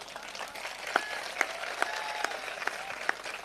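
An audience claps at an outdoor comedy poetry gathering in Sitamau, Mandsaur, with a light, steady patter of many hands and a few sharper claps standing out, heard at moderate distance.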